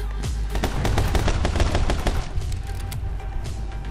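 Rapid, loud gunfire from the video game My Friend Pedro, with dense bursts of shots rattling continuously for several seconds with no talk over them.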